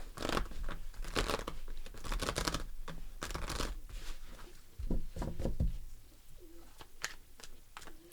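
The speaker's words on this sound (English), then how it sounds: "One more shuffle." Repeated crisp riffling and flapping of tarot cards being shuffled up close, in bursts, with soft bird cooing in the background.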